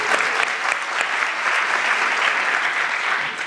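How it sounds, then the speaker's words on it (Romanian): A crowd at a Romanian political event applauds the press, with loud, dense and sustained clapping from many hands close by that fills the whole stretch without letting up. "Aplauze pentru presă."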